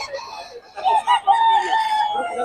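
A young stag rooster at a Bocaue market crows close by in a rising, drawn-out call broken by short clucks, with faint market background beneath.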